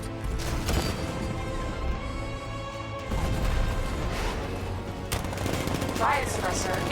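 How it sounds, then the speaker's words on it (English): Heavy tank cannon fire in the Batman Arkham Knight video game, a 60mm gun booming in repeated bursts over a dense wash of battle noise, with voices in the mix. "60mm cannon operational."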